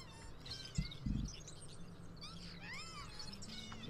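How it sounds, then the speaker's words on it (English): A parrot-like creature call from the video game Spore: a few bright, warbling chirps with swooping whistles, fairly faint over a steady low hum, with two short thumps near the start. "I'm sure I've heard that parrot noise on other different, on other, on TV and stuff like that"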